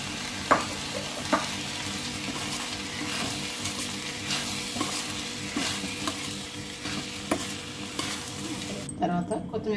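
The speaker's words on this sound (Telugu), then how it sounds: "తర్వాత ఉడికించి పెట్టుకున్నటువంటి రైస్ వేసుకొని కలుపుకోవాలి" Cooked rice is stirred with masala in a pan for sweet corn pulao, a soft continuous sizzle with regular spoon knocks and scrapes against the pan, close by, ending with a brief clatter.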